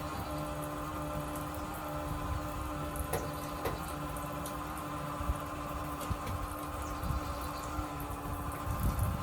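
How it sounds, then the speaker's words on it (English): Gasoline pouring and splashing while an engine is drained, a steady liquid stream with dripping and a few faint knocks, close and continuous without talk. "I sure am spilling a lot"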